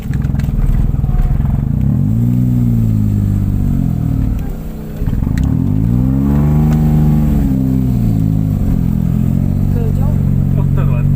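A motorcycle engine revs loudly and close by on a rough, potholed road, its pitch rising and falling in repeated surges that run through the whole clip, with background voices mixed in.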